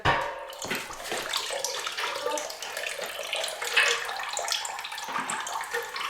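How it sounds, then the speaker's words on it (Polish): Steady splashing, gurgling water draining out of a home heating radiator for several seconds, close by and continuous, with no talking. "teraz muszę spuścić całą wodę z grzejnika"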